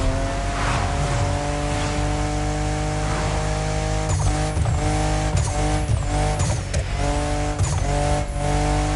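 Car drifting in The Crew Motorfest racing game, the engine droning steadily and loudly throughout while tires squeal in repeated bursts during the second half, with no voices.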